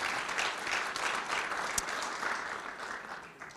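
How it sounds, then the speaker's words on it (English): Steady applause from a conference audience welcoming a panel at a consumer rules summit, sustained clapping with no voices. "Please give a round of applause to our distinguished panel."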